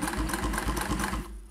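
A vintage Singer 401a sewing machine with a standard size 12 sharp needle stitches through layered heavy fabric, a close, rapid, rhythmic mechanical chatter that runs steadily and then stops.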